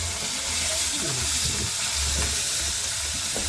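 Fish frying in a pan at a riverside camp on a Sundarbans fishing trip, a steady close sizzle with bursts of stirring and low rumbling, no one talking.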